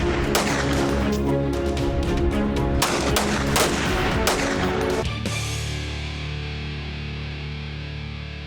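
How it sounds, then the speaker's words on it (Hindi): Rapid gunfire in a police and Elite Force raid on bandits in the hills of Khushab, dense bursts of loud shots for about five seconds, then a fading rumble with no voices. "पुलिस और डाकुओं के दरमियान फायरिंग का सिलसिला शुरू हो गया है।"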